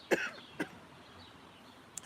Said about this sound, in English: sorry, I just have a little cough.